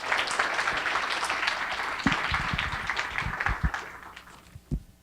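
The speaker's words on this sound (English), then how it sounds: "So let's give another round of applause to Adisa Ajamu." An audience applauds a moderator at a university alumni talk, a steady roomful of clapping that thins out and fades toward the end.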